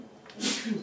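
A single short sneeze bursts out in a classroom during a math lesson, a sharp breathy blast over quiet room tone with a voice briefly speaking around it.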